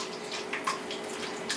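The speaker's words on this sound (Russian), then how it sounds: "Наливаем сразу просто кипяченую воду." Boiled water pours from a kettle into an ice cube tray. A steady, close splashing trickle lasts the whole moment, with no voices.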